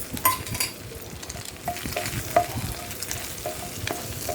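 Salt, chili powder, coriander powder and cumin powder stirred into an onion-tomato puree frying in a pan for kadai paneer, a soft continuous sizzle with scattered clinks and scrapes of a spoon, close and alone.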